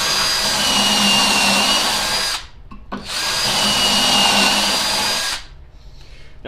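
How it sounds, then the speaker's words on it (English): Power drill boring pocket holes into a 3/4-inch board through a pocket-hole jig, two loud sustained bursts of whirring with a short pause between them and a quieter tail afterward. "And then you drill your holes."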